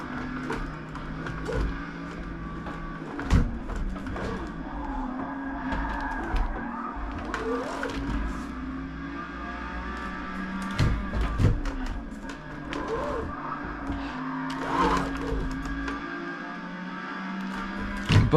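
A Lamborghini drifting in the racing game Forza Motorsport, a sustained engine drone rising and falling with bursts of tire squeal and scattered clicks from the controls.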